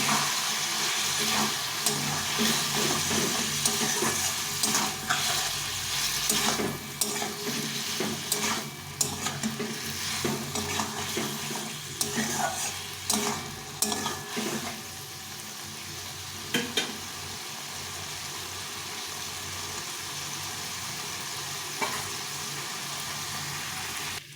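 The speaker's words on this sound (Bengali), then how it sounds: "এখন আমি আদা বাটা আর লঙ্কা বাটাটা দিয়ে দিই এটা দিয়ে একটু ভালো করে একসঙ্গে কষিয়ে নিতে" Cauliflower sautéing in a pan with ginger paste and chili paste, a steady sizzle broken by repeated scraping and stirring strokes, busier at first and settling into a quieter, even fry.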